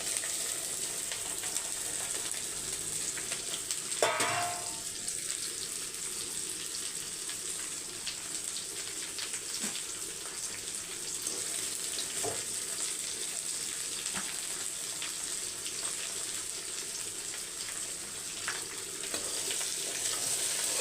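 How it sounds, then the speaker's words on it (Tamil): Okra fries with cumin, a dried red chilli and curry leaves, a continuous soft sizzle in the pan broken by a few brief clinks and stirring knocks, no voices. "அப்படியே மிக்ஸ் பண்ணி விட்டுருங்க நல்லா வதங்கி வரட்டும்"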